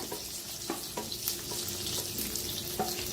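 Small green chillies fry and get stirred in a pan for a salted chilli side dish, giving a quiet, steady sizzle broken by a few sharp spoon scrapes and taps.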